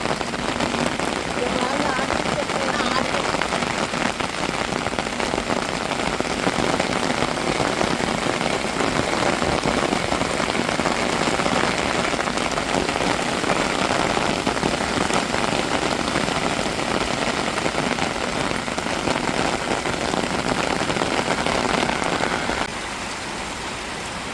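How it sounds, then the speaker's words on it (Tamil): Heavy monsoon rain pours down steadily during Cyclone Ditwah, a dense, loud, unbroken hiss of water hitting surfaces that continues for the whole stretch and drops slightly in level near the end. "நல்ல மழை அடித்து ஊற்றிக்கிட்டு இருக்குது பதுக்கை இதாக அடை மழை"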